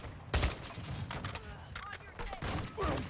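Rapid Call of Duty gunfire from a Kastov 545 rifle on PS5, a close, sustained stream of shots under voices and game chatter throughout.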